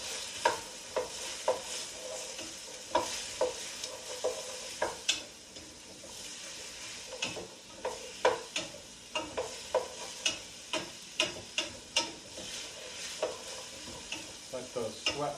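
Vegetables sizzling in a pot for matzo ball soup, a steady frying hiss broken by repeated scraping strokes of a spoon stirring them, close and fairly loud with no talking.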